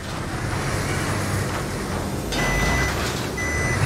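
Reversing beeps from a bus in the Wreckfest demolition racing game sound in short repeated electronic bursts over a steady, loud roar of engines and crashing vehicles.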